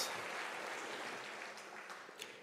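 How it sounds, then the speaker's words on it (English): Audience applause at a University of South Africa graduation ceremony, a faint, distant wash of clapping that fades gradually over a couple of seconds, with no voices. "That deserves a round of applause."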